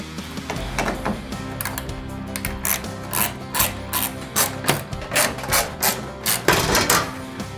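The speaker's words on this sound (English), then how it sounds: "you're going to need a Torx T30 driver or bit like this one, and then you're going to need to remove the 8 fasteners" A Torx T30 driver works fastener after fastener out of a tailgate panel on an older truck, making rapid repeated ratcheting clicks and bursts of mechanical clatter, close and fairly loud, with no talking.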